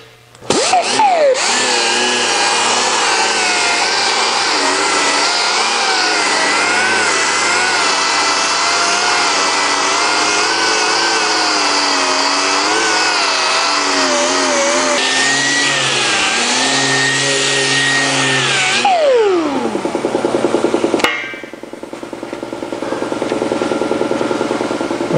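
Power sander working a metal slapper with 600-grit abrasive, a loud, close, continuous whine that holds steady for long stretches before winding down near the end.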